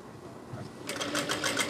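A sewing machine starts up partway through, stitching a gents' kurta with a fast, close mechanical whir after a quiet moment of handling, and a voice talks faintly in the background.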